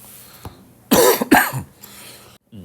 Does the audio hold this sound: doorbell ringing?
no